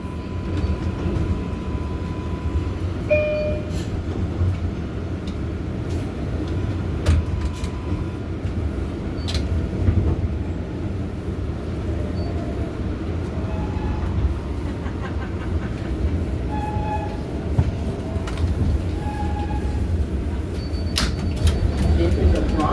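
A New York City R142A subway train, a Bronx-bound 6 local, rumbles steadily and loudly throughout with low rolling noise, brief tonal squeals and clicks, and an automated announcement voice in the car.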